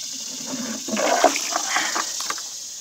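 Water poured into a 5-gallon bucket outdoors, a steady close gush and splash with a rising fill sound lasting a few seconds.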